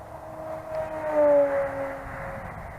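A Flitework Skywing Red Bull T-28 radio-controlled model plane making a low pass, a steady electric motor whine that swells and shifts pitch as it goes by, heard alone at moderate distance.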